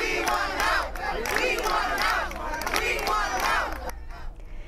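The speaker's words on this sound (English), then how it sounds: "A meeting of concerned citizens resulted in a crowd marching to his home last night." A crowd of protesters marching to a man's home in the Washington Park section of Providence shouts in loud, repeated rhythmic chants, voices rising and falling together in waves before a brief drop near the end.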